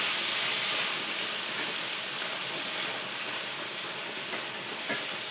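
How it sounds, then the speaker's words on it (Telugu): Black-eyed peas fry in a pan with dried red chillies, giving a steady, dense sizzling hiss that holds evenly throughout with no talking. "ఇందులో వాటర్ అంతా ఇంకిపోయేదాకా మనం ఇలా ఫ్రై చేసుకుంటే బాగుంటుంది."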